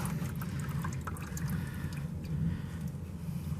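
Engine oil drains from the sump of a Fiat Panda in a steady, close trickling pour with faint drips, continuous and without speech.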